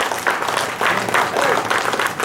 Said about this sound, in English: So big applause for Jalaram Events, Anand Mishra.